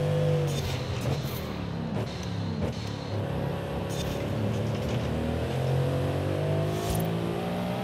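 A 2021 Mercedes-AMG GT Black Series in Forza Horizon 5 drives a test track in Mexico, its engine revving up and down through gear changes with a steady, moderately loud whine.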